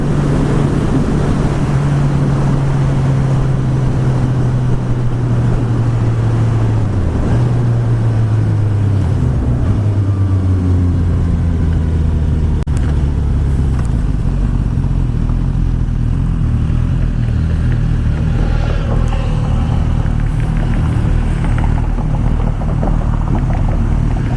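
A 2016 Suzuki GSX-S1000 engine pulls hard while riding, its loud, steady roar climbing in pitch through the gears with wind rush all around, continuous and close.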